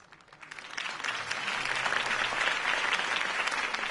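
Crowd applause after a campaign speech in a Batman video game, a steady wash of many clapping hands that swells in the first second and then holds, loud and continuous.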